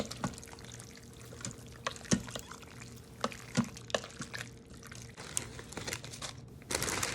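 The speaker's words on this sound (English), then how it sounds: "We're going to give it a good stir. Now everything can be stirred all the way through." Pasta with ground sausage and spinach is stirred in an Instant Pot on keep-warm mode, giving soft wet scraping and clinking spoon taps at an irregular rhythm, close and fairly quiet.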